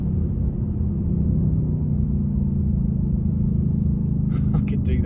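Ford Mustang Mach 1 engine pulling hard in third gear, a loud, steady low rumble heard from inside the car with a voice over it.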